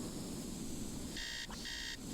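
A digital alarm clock buzzes in the Nancy Drew game Treasure in the Royal Tower, with a steady electronic tone broken by a short gap, loud and alone over faint background hiss.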